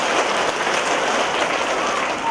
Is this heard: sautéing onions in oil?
no